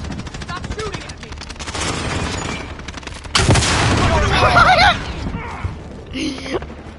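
Rapid automatic gunfire and bursts from the video game Call of Duty Modern Warfare, loud and dense with a sharp surge midway, mixed with game voice callouts and talk.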